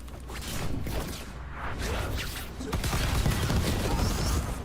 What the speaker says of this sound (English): Have fireworks to the face.